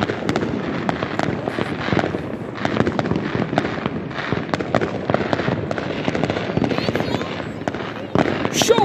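New Year fireworks burst over a city in a rapid, continuous barrage of sharp cracks and pops, some close and loud, with a heavier blast near the end while people talk and react nearby.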